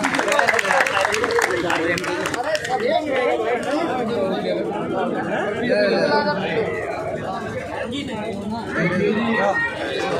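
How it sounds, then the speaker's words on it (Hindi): An audience at an Indian political gathering applauds to welcome Rajya Sabha MP Dr. Anil Jain. Dense clapping opens loudly, then gives way to steady crowd chatter and overlapping voices. "एक जोरदार ताली करके स्वागत करें उनका।"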